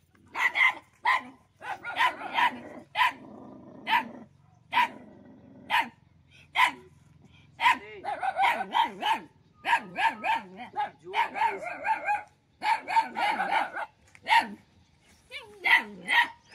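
Dogs bark in repeated sharp bursts, loud and close, with yips and whimpers mixed in, while people talk and shout between and over the barking.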